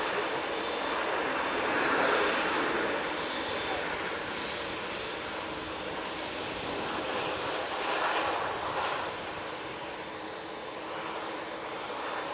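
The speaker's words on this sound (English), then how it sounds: "KLM, touching down" A KLM airliner touches down and rolls out on the runway at Manchester Airport, a sustained broad engine and reverse-thrust roar at moderate distance that swells and eases slowly without any voices.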